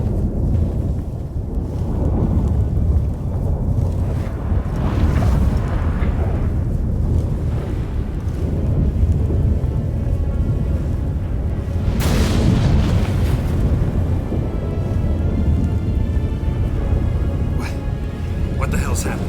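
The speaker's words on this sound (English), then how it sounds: "That a storm?" Stormy weather in The Witcher 3: Wild Hunt, with a steady roar of wind and rain and deep rumbling booms of thunder. The loudest burst comes about two-thirds of the way through, and game voices sound over the storm.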